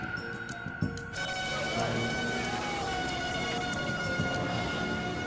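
An ambulance siren wails steadily over a dense, noisy street scene in Kuta Beach, Bali, with indistinct voices and traffic bustle.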